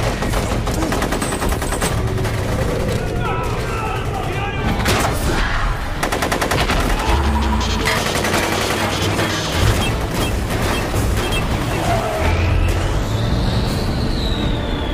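Loud, dense gunfire from a movie gun battle involving Navy SEALs, automatic bursts and single shots layered with crashes, vehicle noise and score, continuous throughout with little pause.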